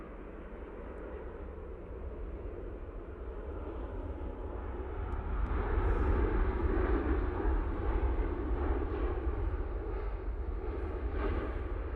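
A Boeing 787 Dreamliner landing on runway 05 left at Manchester Airport, a broad steady jet roar that swells louder midway and holds, heard from a distance with no talking.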